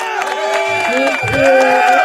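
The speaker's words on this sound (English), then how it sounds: "Let's give a round of hand applause for Dr." A podcast audience cheers and claps for a guest doctor, whoops and crowd noise swelling over a voice that keeps talking through the brief burst.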